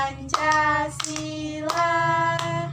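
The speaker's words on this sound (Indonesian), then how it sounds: "coba bersama-sama kita nyanyikan lagu Garuda Pancasila ya, sambil tepuk tangan." A third-grade class claps hands in a slow, even beat while singing the Indonesian patriotic song Garuda Pancasila. The claps are crisp and spaced roughly every two-thirds of a second under the sustained children's voices.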